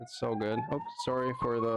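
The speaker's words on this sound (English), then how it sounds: "sorry for the siren." A police car siren passing outside sounds as a steady high wail behind and between continuous nearby talking.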